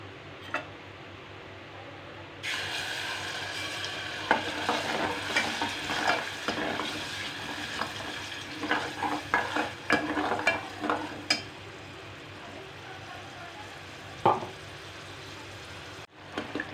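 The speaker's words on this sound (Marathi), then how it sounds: "हे बघा टॅमॅटो प्युरी कशी मस्त भाजले जाते तेलामध्ये" Tomato puree sizzles and spatters in hot oil while a spoon stirs and scrapes the pan in irregular bursts; no one speaks.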